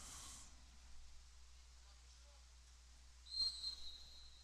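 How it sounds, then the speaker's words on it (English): A short, shrill referee whistle blast rings out over a quiet crowd murmur and steady background hum at a high school girls' soccer game, sounding a bit distant. "And we get a whistle."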